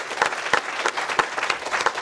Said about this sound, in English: let me ask you again to give these great folks a round of applause